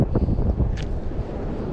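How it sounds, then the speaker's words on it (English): A strong gust of wind at a pond buffets the microphone with a loud, low, rumbling roar that lasts the whole moment. "Wind all came at once"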